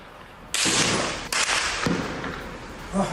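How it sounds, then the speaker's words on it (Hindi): Gunfire between the army and militants at the Jenin camp in the West Bank: a few sharp, loud bursts of shots with echoing tails, quite close, with no talking. "ये देखें, वेस्ट बैंक में सेना और विद्रोहियों के बीच फायरिंग।"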